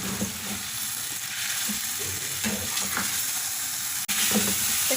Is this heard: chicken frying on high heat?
yes